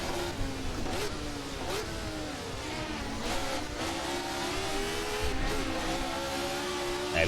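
A 1970s Formula One car engine in the Assetto Corsa racing game revs up and down continuously at a steady, fairly loud level, with rising and falling pitch as it shifts through the gears. No voices are present.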